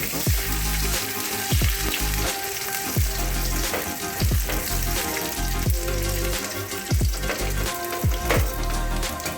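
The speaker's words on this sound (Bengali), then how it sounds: "আমি এগুলো ভালো করে কষবো" Garlic paste, black cumin and dried chillies frying in oil in a pan, a loud close sizzle broken by regular low thumping spatula strokes, roughly one per second, with no talk.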